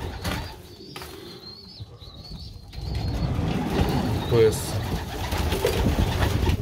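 Pigeons coo and shuffle inside a breeding pigeon loft, a steady murmur of low calls with occasional wing flutters, while someone speaks briefly nearby.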